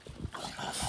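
A dog whimpers and yips softly a few times, fairly close, with faint rustling in the background.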